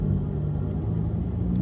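Acura TLX A-Spec engine idling and echoing inside a parking garage, a steady low rumble with a reverberant hum, continuous and fairly close, no talking.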